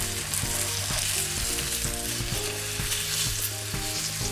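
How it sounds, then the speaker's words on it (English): Honey jalapeño black bean burgers fry in a hot pan, giving a dense, steady sizzle with crackling spatter that stays loud and close throughout, no voices over it. "you want it to sizzle immediately upon hitting the pan"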